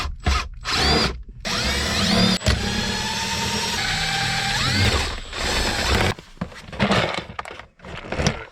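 A power drill backs screws out of a dashboard panel on a VR5 Savoy car, several bursts of whirring motor at close range, the longest running a few seconds with a rising pitch, separated by short pauses and handling clatter.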